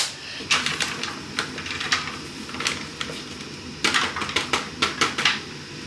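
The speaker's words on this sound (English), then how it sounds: "I'm just going to scrape because there's a bit at the bottom there." A utensil scrapes stuck spiced rice from the metal bottom of an air fryer basket, giving sharp, irregular clinks and scratches in quick clusters, close and fairly loud, with no talking.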